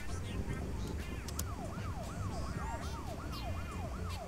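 A repeating rising-and-falling electronic siren plays from inside Animal Crossing: New Horizons, a steady wailing sweep cycling about once every half second over a low, thumping, funky futuristic-sounding in-game music track.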